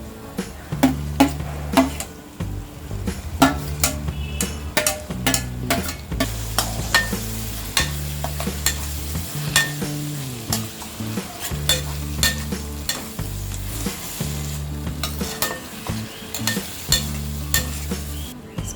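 Mashed eggplant, tomato and green chilli stirred in a frying pan with onions already fried in oil, giving steady close sizzling with repeated scraping stir strokes and a few utensil clinks, no voices.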